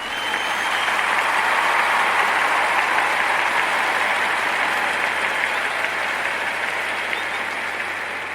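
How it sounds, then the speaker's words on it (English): A county audience applauds steadily for a long-serving official, dense sustained clapping that swells slightly and then eases off, with a low hum underneath and no speech. "Let's give Wendell a round of applause for his 40 years of service to our county."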